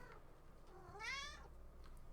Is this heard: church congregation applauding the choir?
no